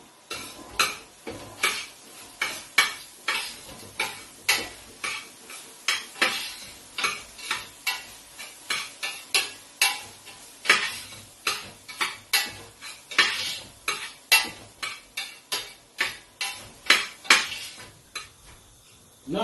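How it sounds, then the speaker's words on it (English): Egg fry with king prawns stirred in a pan, steady rhythmic scraping and clanking of a utensil against the metal, repeating roughly every second, close and clear with a faint sizzle beneath and no talk. "Then I'll stir it."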